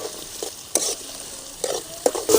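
Onions and green chilies frying in a pan for a bitter gourd curry, with a soft background sizzle broken by a few sharp stirring scrapes, close up.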